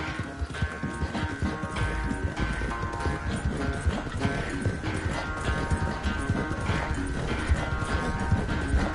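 A horse trots in a video game with steady clip-clop hoofbeats under layered background music and ambient game sound, no voices.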